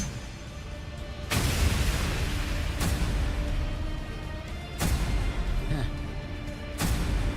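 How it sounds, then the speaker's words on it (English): Explosions from the Bleach Rebirth of Souls fighting game come as several sharp, loud booms spread across the clip, with sustained rumble and effects between them. "He has 2 explosions."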